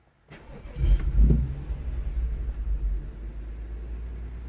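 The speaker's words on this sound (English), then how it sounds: "Okay, so the engine is idling." A BMW 135i F20 with a rough idle cranks and fires up, surges briefly, then settles into a low, slightly uneven idle rumble heard up close.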